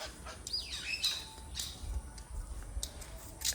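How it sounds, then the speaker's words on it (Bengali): Myna birds chirp outdoors in short, scattered bursts of sharp, bright calls, fairly faint and set against quiet ambient noise. "এই শালিক পাখিগুলো সারাক্ষণ কায় কিচির মিচির কায় কিচির মিচির করতে থাকে"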